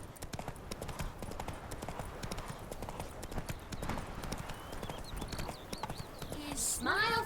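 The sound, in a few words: horse Roach galloping in The Witcher 3 video game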